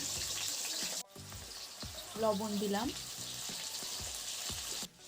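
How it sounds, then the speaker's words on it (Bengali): Potatoes fry in a little mustard oil in a wok with a steady broadband sizzle, while someone speaks briefly in the middle over a short pause in the crackle. "প্রথমেই আমি একটা কড়াইয়ের মধ্যে নিয়ে নিয়েছি অল্প পরিমাণে সর্ষের তেল এর মধ্যে দিয়ে দিলাম আলু"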